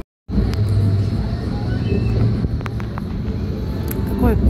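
Inside a moving Berlin tram: a continuous low rolling rumble with faint squeaks and clicks from the wheels, steady and fairly loud, with occasional brief higher chirps near the end.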